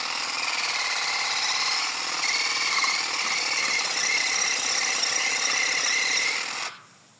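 A cordless Dnipro-M 18V hedge trimmer buzzes steadily and loudly while cutting ornamental grass such as pennisetum and miscanthus, with no voices, then stops abruptly near the end.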